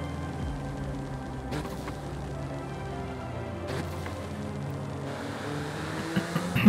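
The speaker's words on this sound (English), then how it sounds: "if you listen closely to the engine" Steady car engine drone in Forza Horizon 5, a continuous mid-level hum holding fairly constant with a couple of faint transient bumps, no voices over it.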